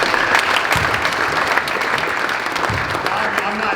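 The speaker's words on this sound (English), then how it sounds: "Round of applause" A crowd at a basketball coaching clinic claps steadily for a few seconds, a dense, even patter of applause heard close with no break.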